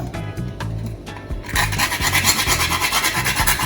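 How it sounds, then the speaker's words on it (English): Nutmeg is rasped against a kitchen grater, a quick rhythmic scraping that grows denser and louder partway through, heard up close. "I'm grating some nutmeg."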